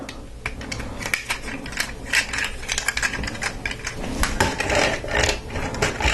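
Small plastic clicks and ratcheting snaps as a Lego tank tread is pressed onto the wheels of a Lego City Hovercraft Arrest set vehicle, close-up, with a busy irregular rhythm of taps and rattles throughout.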